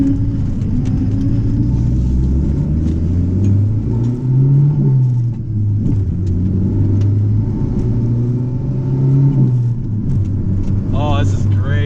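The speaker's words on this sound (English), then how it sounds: "The turbo kicks in so hard though." A Chrysler TC with a turbocharged 16-valve engine revs and pulls hard through the gears, a loud rumbling drone rising in pitch, with a voice talking over it.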